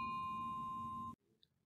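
A notification bell ding rings out as a bright, sustained tone with several steady overtones for about a second, then cuts off abruptly. A tiny, faint second chime follows in near silence.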